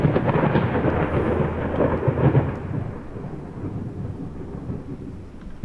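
A thunderstorm rumbles in the horror game Layers of Fear, with a deep, rolling thunder roll over steady rain that gradually fades.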